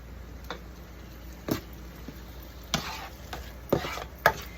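Garlic and sauce being stirred together in a skillet over the stove, a few soft scrapes and clinks of the utensil against the pan spaced irregularly over faint background hiss, with no talking.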